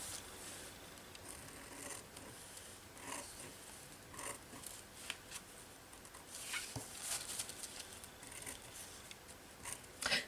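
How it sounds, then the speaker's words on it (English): Scissors trimming the edge of paper for a collage, a quiet close series of snipping and rustling sounds with small handling noises throughout. "I might actually just trim this side."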